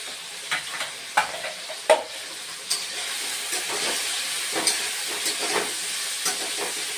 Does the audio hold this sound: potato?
yes